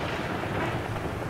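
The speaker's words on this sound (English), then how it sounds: "I don't even know if you guys, heard that whole conversation, because it was thundering, man." Thunderstorm with rain in Skyrim with the Climates of Tamriel weather mod: a brief, dense wash of rumbling thunder and steady rain noise, fairly quiet and continuous, with no speech.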